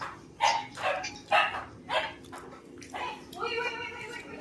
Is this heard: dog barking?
yes